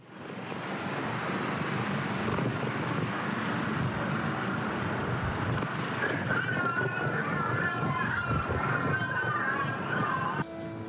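Strong lodos windstorm gusting through Istanbul, a continuous loud roar of wind buffeting the microphone with sloshing water and traffic-like rumble beneath, with voices faintly audible in the background.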